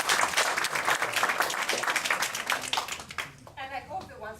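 A friends-of-the-library gathering bursts into a lively round of applause, with dense clapping filling the room. It fades as a voice begins speaking near the end.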